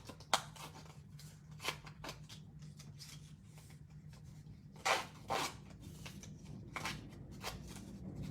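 Scissors snip through patterned craft paper for a handmade easel card, giving faint, scattered cuts and crisp rustles over a low steady hum.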